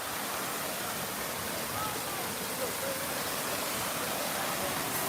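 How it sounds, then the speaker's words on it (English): A waterfall in Torrevieja, Spain rushes as a steady, even hiss of falling water, continuous and moderately close, with no voices over it. "I'm going to finish it off with a look at the waterfall"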